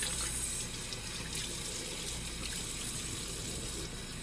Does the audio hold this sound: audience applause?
no